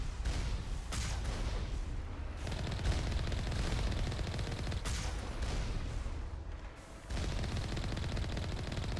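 Sustained automatic turret gunfire from the video game Mass Effect, dense continuous bursts of shots with booming impacts, loud and steady throughout with brief lulls, no talking.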